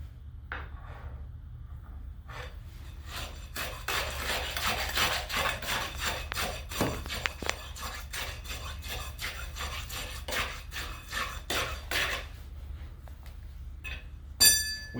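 A tamping rod works a fresh layer of concrete in an air meter bowl for a pressure test, with close rhythmic scraping and thudding strokes. A brief metallic clink comes at the end.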